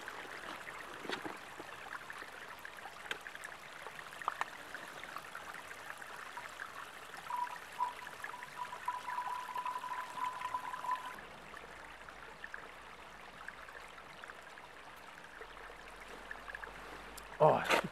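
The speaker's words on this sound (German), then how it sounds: "Das Wasser geht oft schwer rein in diese Beutel" A stream trickles and gurgles softly in the Black Forest mountains while water bags are filled, a faint continuous flow with occasional splashes and quiet handling.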